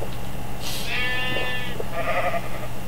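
Sheep in the Minecraft FTB modpack bleat twice, a wavering nasal cry followed by a shorter, fainter one, over a steady background hum.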